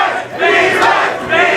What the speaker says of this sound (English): the crowd is going absolutely crazy